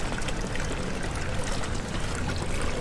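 Steady, dense rushing of water pouring like a shower in the horror game Amnesia: The Dark Descent, continuous and broad with no breaks.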